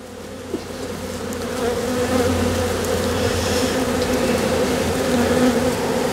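Honey bees buzzing around an open hive during a swarm-prevention inspection, with frames of capped brood being lifted from the brood box; a steady, dense drone that swells slightly louder after the first seconds, with no talk.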